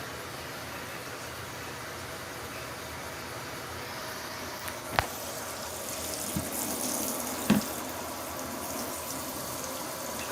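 Water runs steadily into a portable mini twin tub washing machine as it fills, a constant rushing flow with a couple of brief knocks and clunks partway through.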